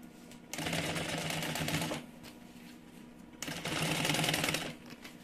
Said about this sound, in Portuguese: Fecha o zíper e continua costurando.